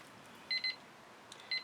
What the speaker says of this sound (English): That's the timer saying that I got a couple minutes left